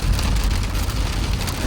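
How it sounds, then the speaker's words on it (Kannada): Heavy rain pours steadily on a Sunday evening in Chennai, a dense, unbroken hiss that stays loud and close throughout, with the faint rumble of passing traffic beneath it. "ಸಿಕ್ಕಾಪಟ್ಟೆ ಮಳೆ ಬರ್ತಾ ಇದೆ"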